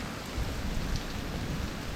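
Steady rain falls in the woods during a storm, a dense continuous patter close around with no talking.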